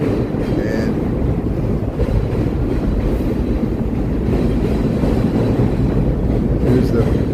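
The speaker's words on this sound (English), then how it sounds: "here's the rumble of the train going by." A train rumbling past in the Chicago Loop, a loud, steady, close low roar with wind buffeting the microphone and faint clacking throughout, with no voices.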